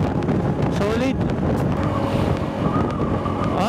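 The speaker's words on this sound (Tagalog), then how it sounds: "sarap ang hangin" Wind blows steadily at an outdoor spot with very low clouds near a windmill, buffeting the microphone in a constant loud rush, with people talking over it.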